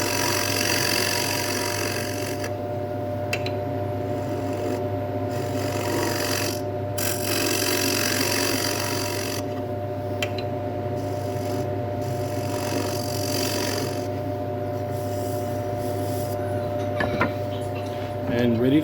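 Scraper cuts a blackwood bowl spinning on a wood lathe, a continuous close rasping scrape over the lathe's steady motor hum, with brief gaps as the tool lifts off.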